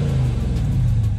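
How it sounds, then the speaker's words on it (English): A car engine revs steadily up close at low pitch, a continuous rumbling drone with no talk over it, heard from inside a car during a lunch break. "Let's see if they can hear me rev this engine."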